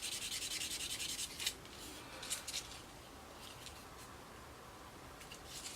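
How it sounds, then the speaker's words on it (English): Soft, steady strokes of a light sanding sponge on plastic model kit seams, close and fairly quiet, with faint rhythmic scratching and no talking. "go over with a very light sanding sponge"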